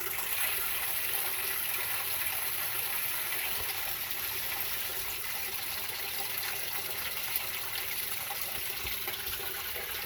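A 2003 Whirlpool Gold Ultimate Care II direct drive washer filling with water during a cleaning cycle, a steady hissing rush of water running through the valves for the whole stretch, fairly quiet and without talk.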